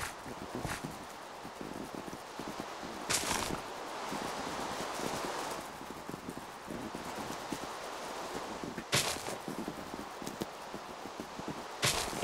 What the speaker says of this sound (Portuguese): Mas vou matar esse cavalo.